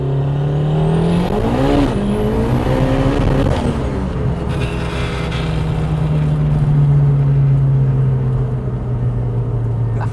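Ford Sierra Cosworth accelerating hard at full boost through the gears, a loud, close engine note climbing in pitch with turbo whistle and gear-change dips, sustained throughout with no talk.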